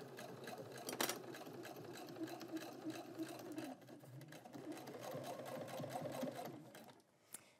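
A sewing machine stitching Velcro onto a roller towel, a steady close rapid mechanical whirr with a brief pause and a few clicks near the end.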